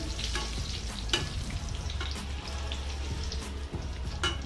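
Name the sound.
mustard seeds and dried red chillies frying in oil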